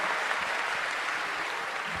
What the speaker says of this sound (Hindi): आप सभी संतों के लिए जोरदार तालियों से अभिनंदन करें